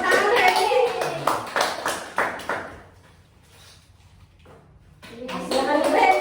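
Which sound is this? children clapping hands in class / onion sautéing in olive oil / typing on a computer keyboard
children clapping hands in class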